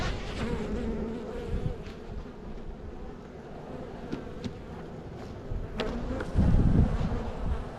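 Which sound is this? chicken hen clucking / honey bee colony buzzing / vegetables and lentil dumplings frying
honey bee colony buzzing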